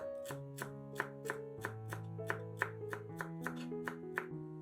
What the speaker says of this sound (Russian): Нарезаем пучок укропа.